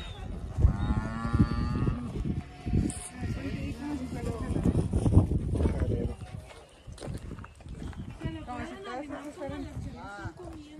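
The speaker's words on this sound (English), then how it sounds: "Okay, here's cows." Cows on a countryside farm moo in several long, close, loud calls, with people talking between them and some shuffling movement.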